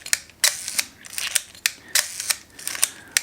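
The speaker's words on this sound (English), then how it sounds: "wind the film and fire the shutter until the film is pulled across" Film winding and shutter firing on a Minolta Super A film camera, a run of sharp mechanical clicks and ratcheting advances repeating in quick succession, close and clear with no talking.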